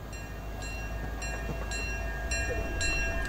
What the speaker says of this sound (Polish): O, nie, tu pociąg będzie przejeżdżać.